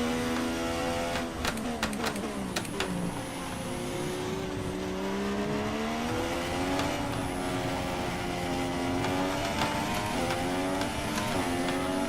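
Formula 1 cars in F1 2016 at overcast Melbourne, with a steady high-pitched engine whine held close and rising and falling in pitch as cars run and pass, marked by a few sharp clicks early on.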